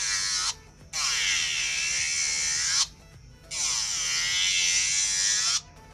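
A Delanie JW-500 electric nail file spinning at 35000 rpm whines loudly in two long bursts while pressed hard against a nail, with short pauses between them.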